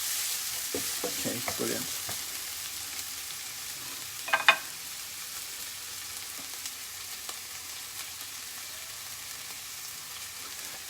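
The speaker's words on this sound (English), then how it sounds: "Again, just moving these onions around, letting them brown slightly." Onions frying and being stirred in a pan for a South Indian-style prawn and spinach curry, a soft continuous sizzle with occasional scraping stirs and a brief louder clatter, under a few quiet spoken words.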